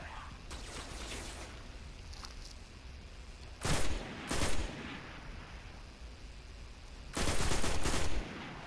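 Rifle gunfire in the video game Destiny comes in two loud bursts of rapid shots, each lasting about a second, over a steady background hum, with no talking.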